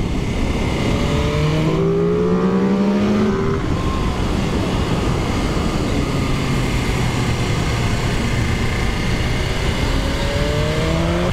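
A BMW S1000RR sport bike engine accelerates hard, its revving tone climbing in repeated sweeps over a dense, loud roar that continues without a break through the whole stretch.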